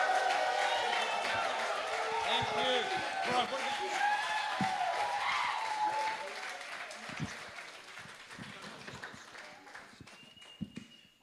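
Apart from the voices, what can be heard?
audience applause welcoming a speaker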